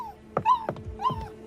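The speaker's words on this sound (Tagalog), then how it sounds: "Kumaripas ang aso sa loob ng kwarto dahil sa takot." A frightened dog whimpers and yips in a room, a few short high whines in quick succession, close and fairly clear.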